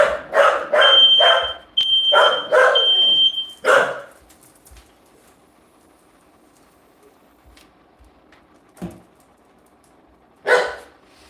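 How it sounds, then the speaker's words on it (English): A home smoke alarm set off by steam from cooking creamy shrimp Alfredo pasta blares in loud, rapid repeated beeps for about four seconds, then cuts out, leaving a quiet kitchen with a few isolated knocks. "Sometimes steam will set off a fire alarm."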